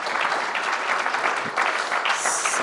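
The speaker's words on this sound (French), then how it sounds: "applaudissements pour vous 6 et pour ces propositions" Audience applause at a round-table session of a 2021 public debate, a steady dense clapping from a room of listeners, loud and continuous throughout without speech.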